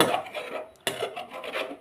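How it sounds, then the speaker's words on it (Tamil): Metal utensil scraping the bottom of a boiling pot to lift off burnt-on residue, repeated rasping strokes, close and fairly loud, with a short pause midway and no talking. "அப்படியே கொதிக்கும்போது நல்லா சுரண்டி விட்டுட்டே இருந்தோம்னா"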